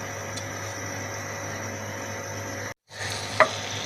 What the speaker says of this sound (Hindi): अब इन्हें फ्राई करने के लिए मैंने पहले ऑयल डाला है और साथ थोड़ा सा मक्खन डाल दूंगी